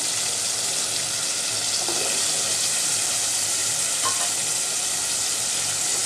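Jackfruit seeds tipped into a pan of fried chillies sizzle loudly and steadily, a bright continuous frying hiss with faint stirring scrapes and no voices.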